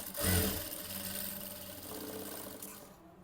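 Sewing machine stitching through blouse lining cloth, a steady close mechanical whirr running a few seconds before it trails off.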